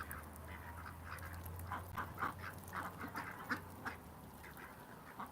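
Ducks in a farmyard on a freezing day, feeding and pecking mud, give off repeated soft quacks and calls over a steady low hum, with the calling scattered through the whole stretch.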